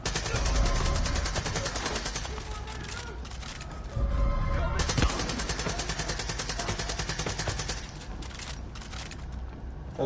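AK rifle fire in the video game Far Cry 5: rapid automatic bursts crack loudly and continuously, with a brief pause near the middle before the shooting resumes, close and dominant.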